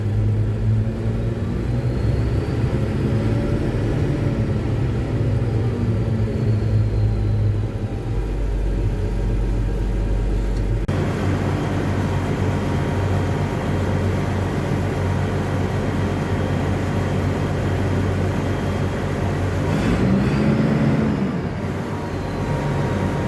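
A Massey Ferguson MF40 combine harvester engine roars steadily with a deep low rumble, its pitch shifting partway through as the revs rise, loud and close throughout.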